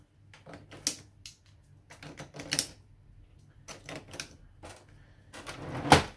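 Ink cartridges being pushed into a Canon Pixma MG5350 inkjet printer, producing a series of close, sharp plastic clicks and snaps at irregular intervals, ending with a louder click.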